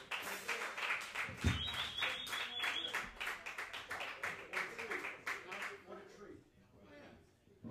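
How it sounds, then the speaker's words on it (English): A small live-music crowd claps for a harp player in a loose, rhythmic burst of moderate loudness that fades out near the end. "Give him a round of applause, man."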